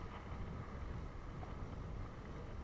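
Steady, loud wind buffeting the microphone while cycling on a long road ride in Morocco, a continuous broadband roar with no pauses and no voices.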